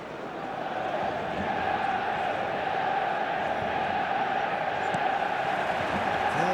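A steady, dense roar of a football stadium crowd on match day in a football video game, loud and continuous with no breaks.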